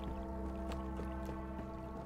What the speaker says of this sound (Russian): Булькает.